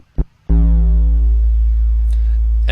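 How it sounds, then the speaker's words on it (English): A Sega Genesis sound chip plays notes triggered from an Ableton Push controller: a short blip, then a loud sustained buzzy synthetic tone holding steady to the end. "what you're hearing now is actually the Sega Genesis generating these sounds that I'm playing on my push"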